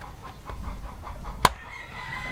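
Backyard chickens cluck in a quick run of soft repeated pulses, somewhat distant, with one sharp click partway through and no talking over them.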